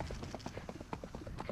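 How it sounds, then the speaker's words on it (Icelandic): A brown Icelandic horse's hooves clip-clop in a quick, steady rhythm, faint and somewhat distant, with soft murmur in the background. "og þá kemur hér brúnn hestur Hlynur Ragnheiðarstöðum"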